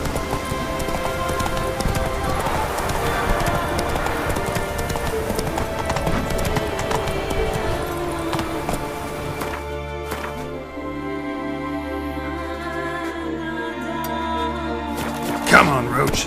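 A horse gallops in a video game, its hooves making a steady, rhythmic clip-clop beneath background game sound, and a person talks intermittently.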